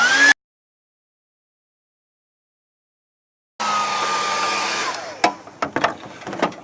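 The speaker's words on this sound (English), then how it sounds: "So I dug out my shop hair dryer." A shop hair dryer aimed at the coil pack of a 2000 Ford Ranger whirs briefly, cuts out for about three seconds of silence, then starts again as a steady close hum, followed by a few sharp clicks and knocks.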